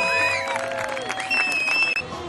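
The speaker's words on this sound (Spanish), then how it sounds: "Un fuerte aplauso." Crowd applause and cheering for the winner of the Open bodyboard event at a local surf, longboard and bodyboard championship at A Lanzada, with whistles and shouts over steady clapping, fairly close and loud.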